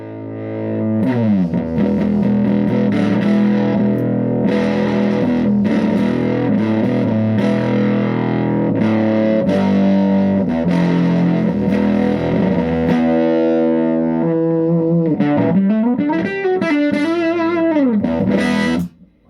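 Electric guitar through The Dark Lord amp at low, medium-high and high gain, dense driven chords and sustained notes played continuously, closing with bending, wavering lead notes, loud and near.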